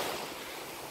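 Sea waves washing onto a sandy beach near Anapa on a morning shore, a steady broadband rush of surf held at an even level throughout with no talk.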